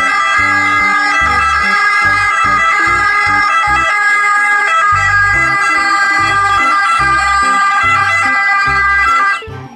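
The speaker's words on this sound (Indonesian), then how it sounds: "Yang ini mobil ambulans." Toy ambulance siren wailing loud and close in a continuous electronic two-tone pattern for nearly ten seconds over a rhythmic low pulsing beat, cutting off abruptly at the end.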